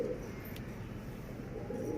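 Pigeons in a backyard loft coo softly and continuously at close range, low throaty calls rolling under a quiet background, with no talking.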